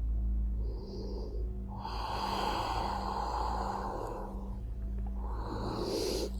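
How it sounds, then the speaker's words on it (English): Slow ujjayi breathing during a yoga session, a soft throaty hiss of constricted breath drawn in and pushed out over several seconds, close and quiet with no talking. "Ujjayi breathing."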